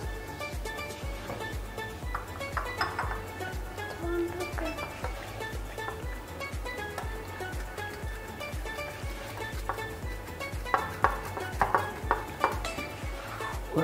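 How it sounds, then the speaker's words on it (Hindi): Pita bread is placed onto metal baking trays for homemade cheese pizza, with soft repeated scrapes and taps against the trays running through the whole stretch and no talk. "पीटा ब्रेड रखनी है, फिर दूसरे ट्रे के ऊपर भी रख कर देना है"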